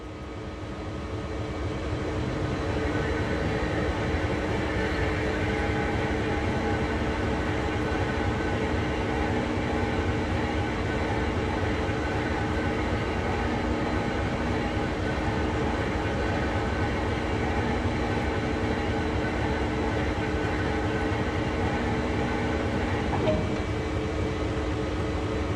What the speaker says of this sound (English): Using the rotation control, turn the table and locomotive to the indicated track.